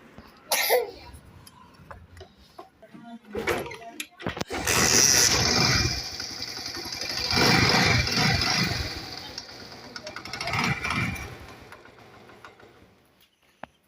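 A small 70cc–125cc motorcycle engine clatters through a few mechanical clicks, then catches and runs with rough, swelling surges before settling back down, fairly close.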